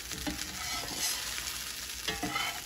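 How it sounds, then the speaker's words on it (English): Steady frying sizzle from a Korean seafood pancake in a hot pan, a continuous crackling hiss with a few scraping stirs, close and moderately loud. "I hear it sizzling under there."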